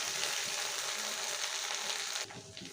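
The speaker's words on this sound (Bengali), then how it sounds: "ধনেপাতাগুলো একটু ভেজে নেব।" Chopped coriander leaves frying in a pan with ginger paste for a bhetki fish-bone curry, giving a soft steady sizzle that cuts off sharply near the end, leaving a quieter tail.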